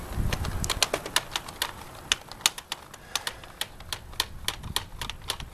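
Screws being undone on a Rival lock give a close, steady run of small sharp clicks and ticks, dozens in quick irregular succession over several seconds.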